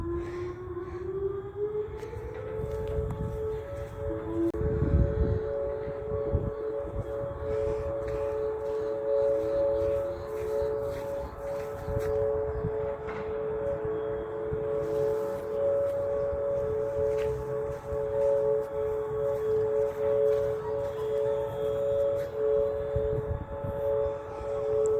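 Oklahoma tornado civil defense sirens wail together in a steady, sustained rising-then-level tone lasting throughout, with multiple overlapping sirens heard from a distance across open air, no talking.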